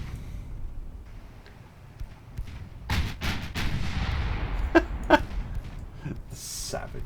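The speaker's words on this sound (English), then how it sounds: "Firefly being rapidly disassembled by all the 2-inch guns." Rapid 2-inch naval guns firing on a ship in Ultimate Admiral Dreadnoughts, a series of sharp cracking shots in quick succession over a low rumbling battle background, with talk over it.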